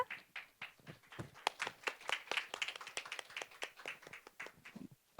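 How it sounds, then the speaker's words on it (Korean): An audience at a Korean venture investment roadshow gives warm, sustained applause to welcome a speaker to the stage, individual claps distinct and uneven, moderately close, with no talk over it. "15분 동안 강연을 준비해 주신 박기용 대표님을 뜨거운 박수로 모셔보겠습니다."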